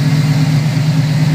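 A Ford Gran Torino Sport's bored Cobra 429 V8 runs at a steady idle, a deep, even rumble that stays loud and close with no talking.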